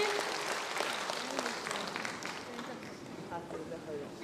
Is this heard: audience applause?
yes